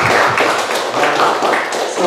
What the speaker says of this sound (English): Can we give a big clap to them?